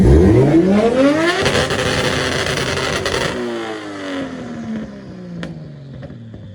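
An RB20DET engine in a Nissan Skyline R32 with water-methanol injection revs hard and high on a dyno, then the pitch falls away as it winds down and settles to a lower drone, loud and close.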